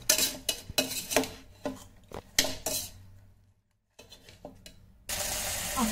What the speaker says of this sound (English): Now mix it really well